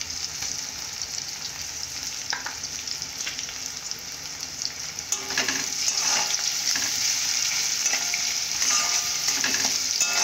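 Onions fry in a pan with a continuous close sizzle and occasional stirring sounds, growing slightly louder halfway through.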